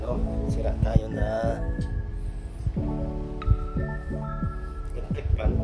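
A broken electric fan converted to run on 12 volts hums steadily with a low throbbing drone, close and continuous, while someone talks over it.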